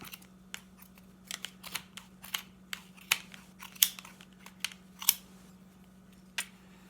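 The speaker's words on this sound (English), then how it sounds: "I'm going to put my scissors and cut." Scissors snip through fabric repeatedly at an irregular pace, crisp close cuts over a steady low electrical hum, trimming a pom pom made on a Clover Pom Pom Maker.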